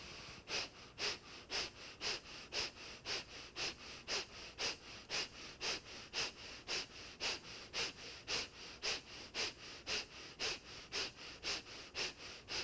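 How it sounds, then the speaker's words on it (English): Breath of fire in a yoga class: quick, evenly paced forceful exhales pumped out through the nose from the belly, about two per second, steady and fairly close, with no talking. "So focus more on the pumping of the exhale from the belly out through the nose."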